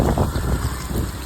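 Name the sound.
strong wind blowing with dust storm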